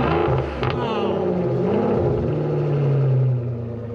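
An Aston Martin engine rumbles nearby with a deep, steady idle that swells briefly as revs rise before settling, loud and close.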